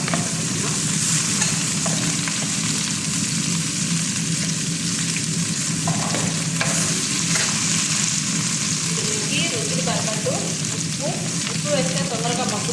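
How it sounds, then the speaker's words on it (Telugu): Ivy gourd frying in a pan with green chillies and curry leaves, a loud, steady, close sizzle with occasional stirring scrapes and no talk. "పచ్చిమిరపకాయ, కరివేపాకు కొంచెం వేగిన తర్వాత దొండకాయ పెట్టుకున్నా."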